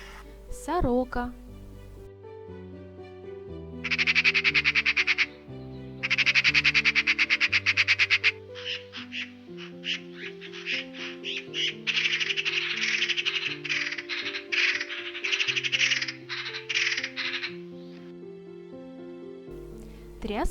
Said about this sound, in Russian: Сорока.